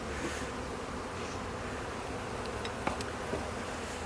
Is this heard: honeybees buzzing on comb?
yes